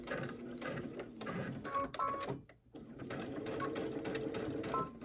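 A sewing machine stitches the final seam of a cosmetic bag, running in steady, close bursts of rapid needle chatter with a brief pause midway before resuming.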